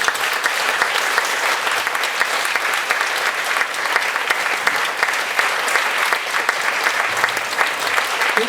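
An audience at a children's music concert in a small hall breaks into sustained applause, dense even clapping from many hands that holds steady and loud for several seconds.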